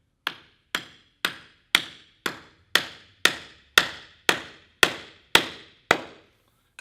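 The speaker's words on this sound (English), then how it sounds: "we're just going to start to hammer things all together." Twelve sharp metallic hammer strikes join aluminum tubing parts at a steady, even rhythm, each ringing briefly before the next, close and clear with no talking.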